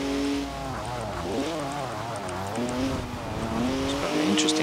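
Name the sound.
high-revving six-cylinder car engine, video game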